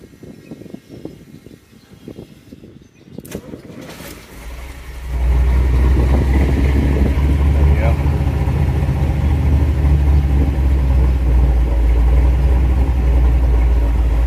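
Jeep YJ with a small block Chevy engine and Holley Sniper fuel injection cranks briefly, fires and settles into a loud, steady, deep idle, heard close and alone after some quiet shop rustling.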